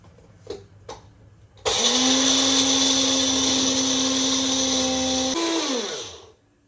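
A kitchen mixer grinder grinds sesame seeds into powder for gongura pulihara. A couple of soft clicks come first, then the motor roars up into a loud, steady whine for several seconds before winding down.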